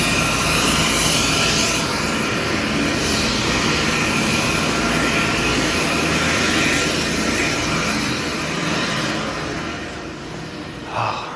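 An airplane engine roars loudly and steadily at a small airport with a little terminal, the broad whine holding near and constant before easing slightly toward the end.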